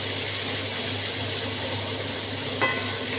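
Okra and potatoes fry for a curry in a pan, a steady soft sizzle running throughout, with one brief clink of a utensil near the end.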